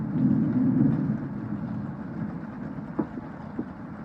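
Thunder from a lightning storm in the video game Cooking Companions: a loud, low rolling rumble that swells early, then settles into a steady growl broken by a couple of short cracks near the end.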